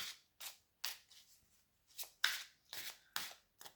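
Tarot cards being shuffled by hand in repeated short riffling bursts, about eight quick papery flurries with brief pauses between, close and fairly quiet with no talking.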